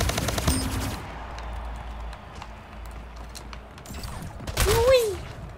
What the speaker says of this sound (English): I like plasma rifle. It's a bit slow firing, but it's still a good fun gun to use.